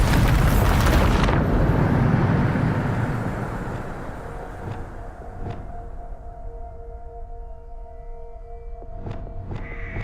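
A Bombarda spell in Hogwarts Legacy blasts as a loud, roaring explosion at the start, then rumbles away into a quieter tail with a few sharp clicks and tonal effects.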